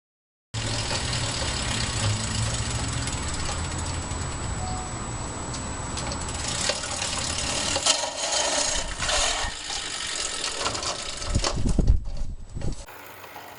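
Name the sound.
reel lawn mower pushed and cutting grass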